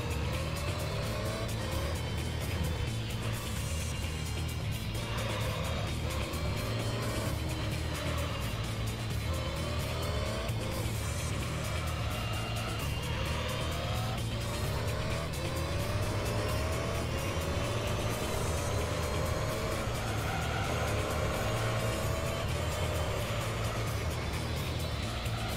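Race car engine in the Gran Turismo 3: A-Spec video game, a steady loud droning roar with shifting revs through corners, continuous throughout with no talking.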